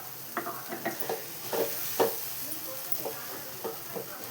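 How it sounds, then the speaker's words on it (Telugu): Mashed gongura leaves are stirred with spice powder in a pan, a spoon scraping in short, evenly spaced strokes over a faint sizzle and hiss, close and fairly quiet. "వేసుకొని మంచిగా కలుపుకోవాలి."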